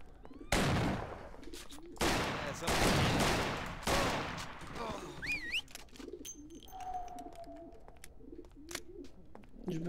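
Shotgun blasts from the video game Mafia, a prison level: several loud, sharp bursts in quick succession close to the listener, then quieter game ambience with scattered softer sounds.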